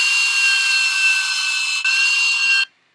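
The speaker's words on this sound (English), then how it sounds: "It's the sound of a Harrier jet taking off." Harrier jet take-off sound effect, a loud high-pitched turbine whine with a steady tonal scream, briefly dipping once before cutting off abruptly into silence.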